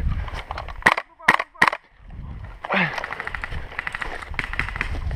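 Airsoft gunfire during an outdoor skirmish with a G36C gas blowback rifle: three sharp cracking shots in quick succession, then a rapid string of shots under people talking and shouting.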